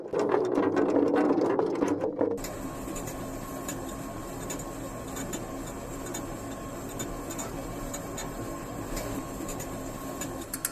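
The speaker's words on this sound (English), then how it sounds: "The cleaned potatoes now enter the peeling machine, where their outer skin is carefully removed." Potato peeling machine running in a chips factory, a steady dense mechanical clatter and rumble with faint rhythmic ticking, continuous and even throughout after a brief louder rushing start.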